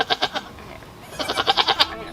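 A Nigerian Dwarf goat in labor gives a run of rapid, rhythmic bleats, three or four in a quick burst, a short pause, then a longer string of about eight close, loud bleats.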